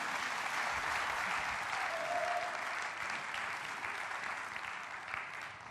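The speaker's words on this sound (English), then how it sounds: "Big round of applause for Caitlin" An audience at a bartending competition applauds a bartender, a dense steady rush of clapping that holds for several seconds before gradually thinning out.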